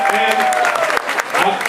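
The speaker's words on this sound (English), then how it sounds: "I'm going to ask these two to stand up in front of us so they can get a round of applause" A convention crowd at an anime Q&A panel claps and cheers for two people standing up, brief loud applause with shouting voices and whoops mixed in.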